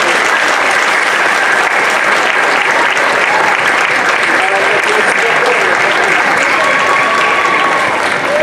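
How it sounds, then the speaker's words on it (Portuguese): A crowd at a children's folk dance school performance in Matosinhos applauds loudly and continuously, thick clapping with voices mixed in throughout. "Um grande aplauso para eles."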